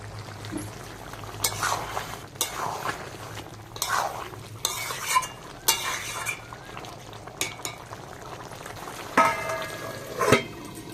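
Chicken in yogurt gravy is stirred in a pan, releasing water, with intermittent scraping and clinks of a spoon against metal over a low simmering hiss; no voices.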